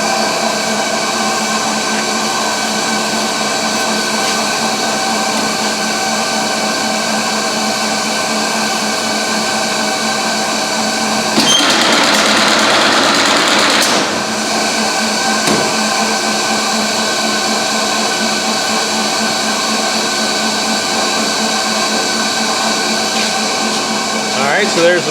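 A Simon semi-automatic box stitching machine drives staples into a box under a steady, loud mechanical hum, with a brief harsher burst partway through. Someone talks over the running machine.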